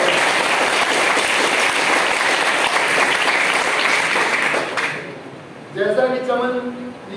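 Sustained applause from a crowd at a college student induction programme, dense and steady for about five seconds, then fading out as a voice begins speaking.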